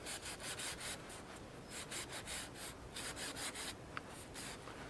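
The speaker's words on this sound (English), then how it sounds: "So I cleaned up all of the individual spokes with my Scotch-Brite pad" Scotch-Brite pad scrubbed along individual bicycle spokes while a wheel is cleaned up for rebuilding, a steady rhythmic rasping rub in quick repeated strokes, close and fairly quiet, with no talking.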